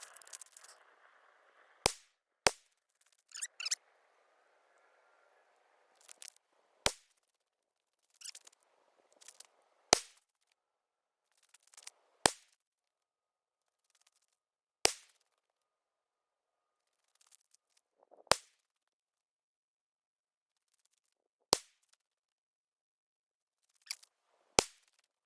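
Pistol shots fired one at a time while zeroing a Holosun red dot sight on a DPP Titanium, about ten sharp, loud cracks at irregular intervals with quiet handling sounds between them.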